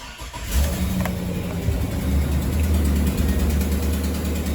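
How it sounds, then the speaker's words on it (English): A truck engine cranks and catches in a garage during brake pad work, then settles into a loud, steady low idle that fills the space. "we'll start the truck. It'll probably get a little noisy in here."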